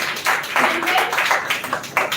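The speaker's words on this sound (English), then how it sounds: "So once again, clap for our little champ." An audience at the grand-finale event applauds someone speaker. The clapping is brief and fairly dense and comes with a murmur of voices.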